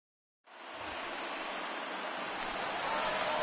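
Steady broadband rain hiss from a baseball video game, MLB The Show 19, starting abruptly after a brief silence and holding even and fairly loud to the end, with no voices over it.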